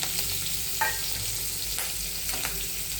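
Chillies, curry leaves and garlic hit hot tempering oil for Marathi phodniche varan, giving a steady close sizzle and crackle with a few sharper spits and pops, no voices.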